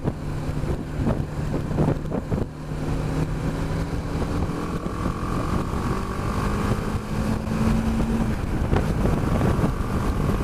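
A BMW G310 GS motorcycle engine drones steadily at motorway speed with heavy wind rush buffeting the microphone, the engine pitch slowly rising.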